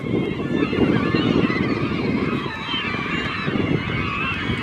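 A large flock of geese honks loudly and continuously at a shoreline feeding frenzy, many overlapping calls forming a dense, clamorous chorus close by.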